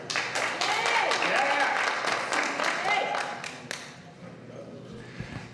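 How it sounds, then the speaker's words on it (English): An audience at an Oceanside city council meeting applauds. The clapping is steady and moderately loud, fades out after a few seconds, and is followed by a quieter room. "That's the only time I get applause"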